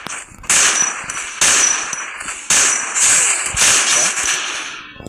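Rapid gunfire bursts from the mobile battle-royale game Free Fire, several loud repeated volleys with brief gaps, close and dense, with no talking during the shots.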